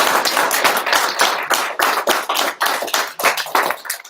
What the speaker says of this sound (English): So round of applause to all the teams.